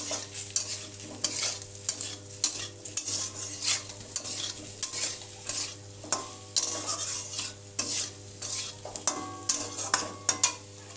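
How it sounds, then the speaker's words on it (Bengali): Turmeric powder being stirred into a koi fish curry with taro and lentil dumplings in a pan, a continuous close sizzle broken by frequent rhythmic scraping strokes of the spoon, no voices. "হলুদ গুঁড়ো দিয়ে মিশিয়ে নিলাম"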